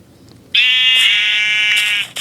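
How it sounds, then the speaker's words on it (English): A single sheep bleats in the game Minecraft Pocket Edition, one loud, clear, sustained bleat lasting about a second and a half that starts suddenly out of near silence. "there's a sheep over there"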